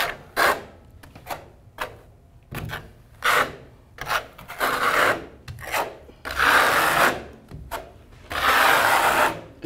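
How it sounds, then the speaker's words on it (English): A trowel spreads thin-set mortar across a steam room ceiling, flat side pressed first and then a 3/16-inch V-notch. Repeated close rasping, scraping strokes come in uneven bursts with short pauses between them, and no voices. "use the flat side of the trowel first to really get a good bond to the substrate"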